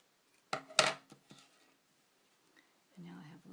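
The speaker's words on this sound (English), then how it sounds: "I'm just going to cut my strings" Yarn strings on a loom-knit ghost being snipped with scissors: a couple of sharp, close cuts followed by quieter handling and a soft voice.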